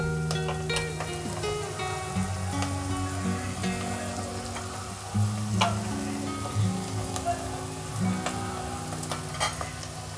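Onions frying in a pan for a tomato and eggplant fish curry give off a steady, close sizzle with stirring noises, running continuously throughout with no talking.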